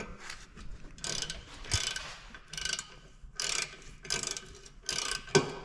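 Ratchet turning to loosen a nut on the subframe of a 1983 JDM Nissan Z31 rally car; repeated bursts of quick clicking strokes with brief pauses, close and fairly quiet.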